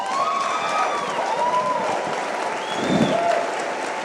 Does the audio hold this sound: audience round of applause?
yes